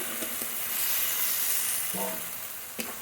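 Chopped tomato going into a frying spice paste, giving a steady sizzle and hiss throughout with a couple of brief clinks and stirring bursts near the end.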